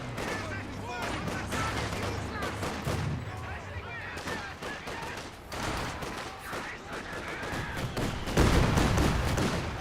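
Mortar impacts and rifle and machine-gun fire in the strategy game Company of Heroes 2, dense repeated shots with heavier booms, under continuous commentary.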